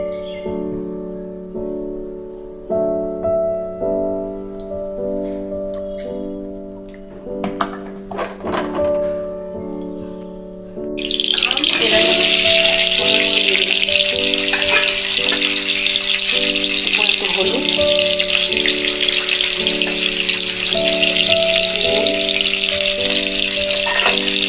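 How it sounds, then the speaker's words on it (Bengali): Stuffed pointed gourds drop into hot oil in a wok and burst into a loud, steady sizzle that runs continuously for the second half, over soft tonal background music and a few light clinks before the frying begins. "তেল দিয়ে দেবো। পটলগুলো ভাজতে হবে।"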